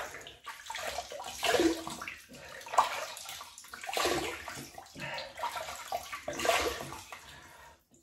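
Tap water running at a sink to wet the face for shaving, a steady close splashing stream with gurgling surges as hands move through it, no talking.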